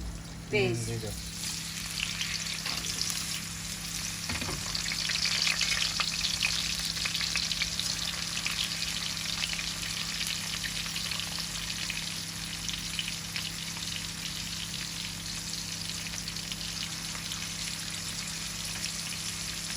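Onions fry in hot oil in a quiet, continuous sizzle. A few clinks and stirs come near the start.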